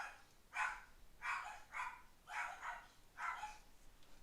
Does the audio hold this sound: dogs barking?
yes